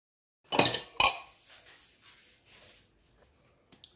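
A spoon clinking and scraping inside a container while mixing glutathione and alpha arbutin whitening additives, two sharp knocks followed by softer rubbing strokes, then a few faint ticks.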